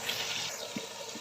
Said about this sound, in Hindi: पानी निकला था जो जिसमें मैंने चने भिगोए हुए थे, वो ही मैं पानी गर्म करके इसके अंदर ऐड कर दूंगी।